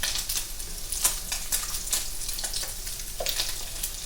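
Catfish patties fry in a pan with a steady, close sizzle broken by sharp crackles and pops of hot oil, with no talking.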